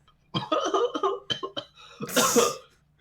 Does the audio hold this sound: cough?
yes